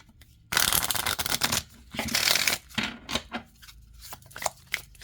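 A deck of oracle cards is shuffled close up: long dense riffling bursts followed by a series of lighter, separate papery slaps and taps.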